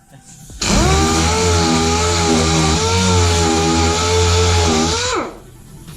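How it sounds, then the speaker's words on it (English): A DA (dual-action) sander runs on car paint with 320 grit, a loud steady motor whine with strong harmonics spinning up, holding for about four and a half seconds, then winding down. No one speaks. "So I guess I'm just gonna sand it down with the DA sander."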